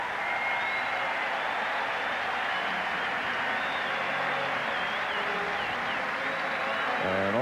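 Sellout capacity crowd at Camden Yards baseball stadium on a 1994 opening day, a constant broad roar of cheering and applause filling the whole stretch, with faint whistles rising above it.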